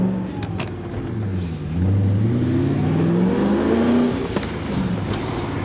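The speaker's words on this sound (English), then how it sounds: "Certainly sounds like a V8 now" A rare BMW V8 with a straight-pipe exhaust drives along, its engine note rising from a steady low burble into a louder, sustained rev before easing off, heard up close and with no talk over it.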